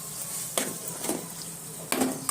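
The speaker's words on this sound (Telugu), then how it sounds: "ఈ చికెన్ లివర్ ఫ్రై" Chicken liver, hearts and gizzards fry with ginger-garlic paste and onion in a pan, a soft steady sizzle broken by a few sharp scrapes and clinks of a spoon stirring against the metal.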